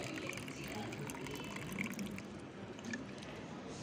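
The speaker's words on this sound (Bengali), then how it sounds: "আর দিচ্ছি আমি, এইটা হলো ভাতের চাল 2-3 বার ধোয়ার পর তারপরে সেই জলটা ফেলে দেওয়ার পর যে চাল ধোয়া জলটা পড়ে থাকে" Rice-washing water, left after rinsing rice two or three times, is poured into a pot, a soft steady trickle and splash under quiet background noise with faint voices in the room.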